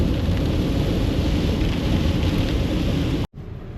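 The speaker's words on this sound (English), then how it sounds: "it's been pumping down the rain the last 2 or 3 days" Heavy rain pours down in a dense, steady roar, loud and close throughout, before cutting off abruptly near the end.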